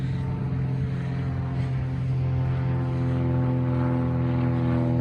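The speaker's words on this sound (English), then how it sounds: "It's a little light aeroplane." A small light aeroplane drones steadily overhead near a beach, a continuous low engine hum with a buzzing propeller tone that stays level and slightly builds, with no voices.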